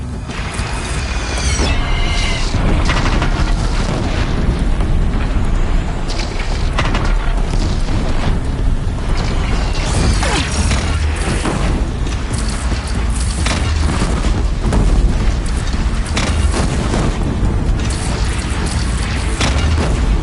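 Repeated booming blasts from enemy fire raining onto a platform in Horizon Zero Dawn, played on New Game Plus at Ultra Hard on PS4, loud and dense throughout with a continuous rumble and crackling bursts layered over one another.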